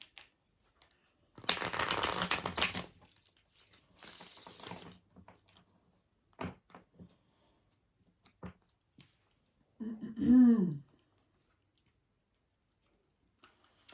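Tarot cards being shuffled in two quick riffling bursts, close up, followed by scattered light clicks and a short tonal squeak, otherwise quiet.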